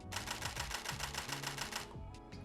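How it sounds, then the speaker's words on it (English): A rapid burst of Nikon D850 DSLR shutter clicks in continuous high mode, around fifteen in quick succession, close and crisp, then stopping with a couple of softer mechanical sounds. "When you're on continuous high, it's going to be a lot faster"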